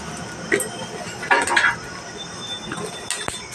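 Fried ingredients for a curry leaf chutney are moved into another bowl with a few close clinks and scrapes of a utensil against dishes. The knocks come in short irregular bursts over a quiet background.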